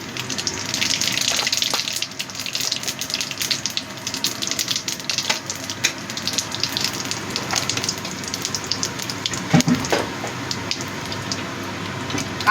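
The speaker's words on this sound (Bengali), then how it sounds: "তেলটা আমার গরম হয়ে গেছে, এবার আমি 1 চামচ গোটা জিরে দিয়ে দিলাম।" Whole cumin seeds sizzle in hot oil in a pan, a steady, crackling hiss with scattered pops, moderately loud and continuous, with no voices.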